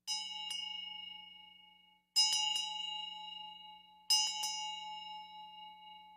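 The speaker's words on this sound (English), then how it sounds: "Several people wanted me to sound the bell" A bell struck three times at even intervals, each clear metallic ding ringing out and slowly fading before the next strike.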